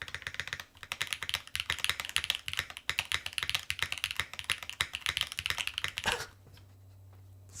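Rapid typing on an Adamas mechanical keyboard built with HMX switches, a dense clacky stream of keystrokes for about six seconds before stopping, leaving a faint hum.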